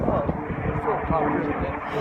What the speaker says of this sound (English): I wonder what kind of jet that is.